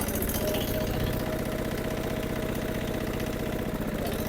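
Old Japanese pickup truck in two-wheel drive on a dirt track, its engine running steadily and close, a continuous low mechanical drone with a rough knocking pulse throughout.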